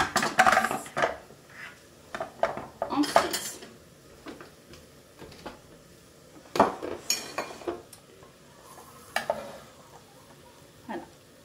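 Metal blade and bowl parts of a Companion XL food processor clatter and clink as the mixing blade is lifted out after cooking lentil soup, several close sharp knocks and scrapes in bursts with quiet gaps.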